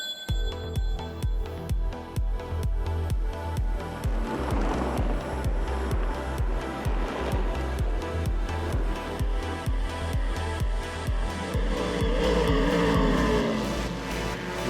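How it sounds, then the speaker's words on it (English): A Ferrari race car on track, its engine droning loud and steady with rising revs and a rhythmic pulsing, growing louder toward the end, with no talk. "Here's that Ferrari again."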